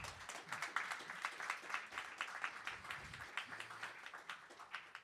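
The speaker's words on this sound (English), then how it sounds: "a warm round of applause for our panelists" A conference audience at a summit panel discussion gives the panelists a round of applause, a faint, steady patter of clapping heard from a distance.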